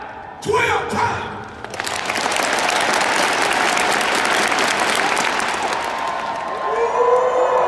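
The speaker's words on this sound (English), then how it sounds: "Clap 12 times." An audience at a Magic Johnson event claps along on cue, starting with a few sharp claps before breaking into sustained, loud applause mixed with crowd cheering and a whoop.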